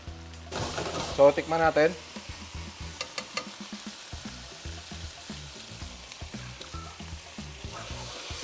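Bagoong sautéing in a pan for lechon kawali, a steady close sizzle and frying crackle running under a voice, with brief louder bursts of spatter early on.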